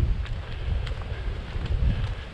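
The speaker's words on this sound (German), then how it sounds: "Wenn nur der Wind aufhören würde" Wind gusts buffet the microphone on a hike along the Mosel Camino between Alken and Treis-Karden, producing a steady low rumbling roar with uneven surges and no talking.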